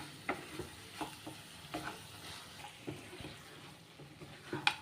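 Chicken and egg frying in a pan while being stirred, a steady low sizzle broken by repeated scraping stir strokes against the pan at close range, with no talking.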